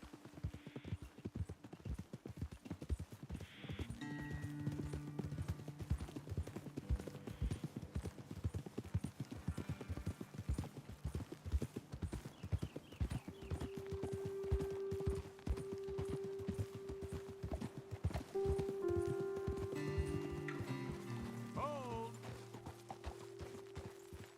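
Horses clip-clop along at a steady trot in Red Dead Redemption 2, their hoof beats close, even and continuous, with a brief voice and some music-like tones rising behind them near the end.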